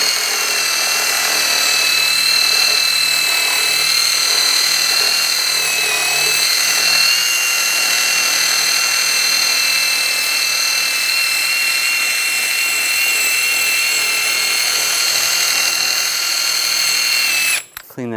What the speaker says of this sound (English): I'm going to take a wire brush and clean up the hub surface